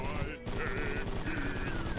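Rapid gunfire rattles continuously while a player shoots Dracula in a video game boss fight, a steady automatic stream with a brief dip, layered with game music and effects.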